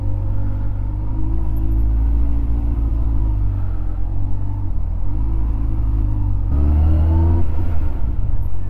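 Engine rumble from a motorcycle riding through city traffic, a steady loud low drone that rises briefly as the bike accelerates near the end, with no talk over it.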